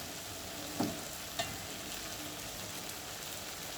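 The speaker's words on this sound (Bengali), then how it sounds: "আমি দিয়ে দিচ্ছি সামান্য একটু গরম জল যাতে মশলাটা ধরে না যায়" Hot water is poured into a pan of sizzling paneer and baby corn curry, giving a soft, continuous frying hiss with a couple of brief splashy bursts near the start, all fairly quiet and close.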